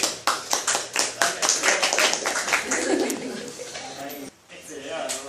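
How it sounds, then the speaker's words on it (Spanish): Clapping from a mycology class in a lecture setting, a burst of sharp hand claps that thins out, with people talking and chuckling underneath. "Un aplauso con eso que se exprese"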